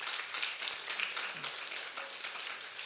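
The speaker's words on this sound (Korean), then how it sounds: "박수 한번 쳐주십시오." An audience in a church gathering applauding graduating high school students with steady, dense clapping throughout, close and moderately loud with no talking.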